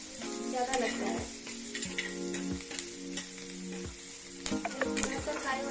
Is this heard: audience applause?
no